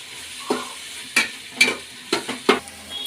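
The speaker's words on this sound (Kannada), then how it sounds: "ಕ್ಯಾಪ್ಸಿಕಮ್ ಹಾಕೊಂಡ್ಮೇಲೆ ಒಂದ್ಸಲ ಫ್ರೈ ಆಡಿಸ್ಕೊಳ್ಳೋಣ" Capsicum being stir-fried in a pan for an avarekalu shavige bath, heard as about five scraping stirring strokes over a faint sizzle. The strokes come at an uneven pace, fairly quiet and close, with no talking.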